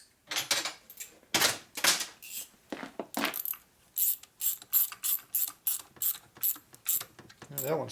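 Nuts being run onto studs of a 1965 Harley panhead 74ci FLH motor without lock washers, a fast series of close ratchet clicks in short bursts, then a steady regular clicking rhythm.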